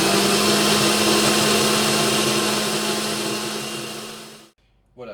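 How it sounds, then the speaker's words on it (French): A kitchen blender whirs loudly and steadily as it mixes banana, caramel, butter, lemon and rum for a macaron filling, then spins down and stops near the end. "Et c'est parti au mixeur, voir ce que ça donne."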